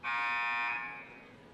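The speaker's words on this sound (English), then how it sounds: "buzzer sounds to bring the teams back out onto the court" A basketball game buzzer from a senior girls' game blares as one loud, sustained electronic tone for about three quarters of a second, then trails off into gym reverberation, with no talking.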